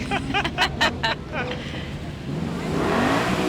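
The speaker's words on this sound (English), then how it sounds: "Enjoy these beautiful cars." Ford Mustangs, both new and classic, roll past in an Independence Day parade in Fairfax City; a crowd murmurs and cheers briefly before an engine note rises and swells nearer.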